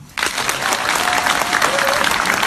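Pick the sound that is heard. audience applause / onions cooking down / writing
audience applause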